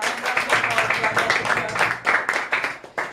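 An audience claps at a live stage event, a dense, steady patter of many hands close by, swelling in a few bursts over about three seconds.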